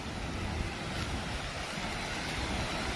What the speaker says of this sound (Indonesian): Kita sudah memasuki pantai